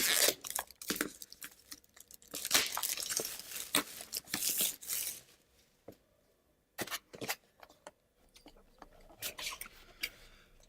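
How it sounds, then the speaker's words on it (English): Ugears Modular Dice Tower box being opened, with crisp crinkling, tearing and rustling of cardboard and packaging in bursts, close and moderately loud, separated by short pauses. "Open the box."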